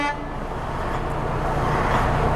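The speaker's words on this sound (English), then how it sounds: "I'm going to check my horns, my city horn and my air horn." Truck horns, a city horn and an air horn, sounded during a pre-trip inspection: a loud, steady blast lasting a couple of seconds, close by and heard alone.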